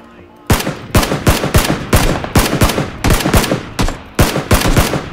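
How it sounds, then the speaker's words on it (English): Rapid automatic gunfire in PUBG, loud close bursts of shots fired in quick rhythmic strings with brief pauses between volleys, sharp and punchy throughout. "I'm just firing, I don't know what is up there"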